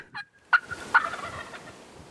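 A wild turkey gobbler gobbles a few times, the sharp rattling calls standing out clearly over a quiet outdoor background, with a softer hen-like yelp from a turkey call at the start.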